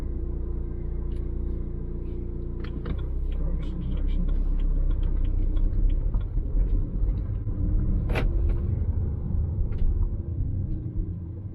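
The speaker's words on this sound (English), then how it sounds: "I'm just waiting for cars to go past." Cars passing along a road make a continuous low rumble of engines and tyres that swells as vehicles go by, with some light clatter over it.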